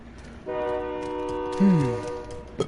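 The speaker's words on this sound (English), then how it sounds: "That's a train." A train horn in a video game blows one sustained, chord-like blast that holds for about a second and then slides down in pitch as the train passes. A brief voice breaks in near the end.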